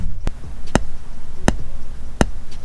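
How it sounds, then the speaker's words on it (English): A car speaker in a 2019 Ram pops during a polarity test with a PT9A tester: four sharp, isolated clicks spaced about half a second to a second apart over a low background hum. "If you hear, we have the popping sound."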